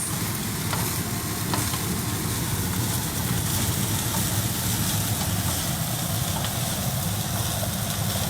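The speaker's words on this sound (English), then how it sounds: "Mix it all in, mix it really well, get the egg into the flavor of the rice." Egg and Chinese sausage fried rice is stirred in a hot pan, with a steady sizzle throughout and a few sharp scrapes and clinks of the utensil against the pan along the way.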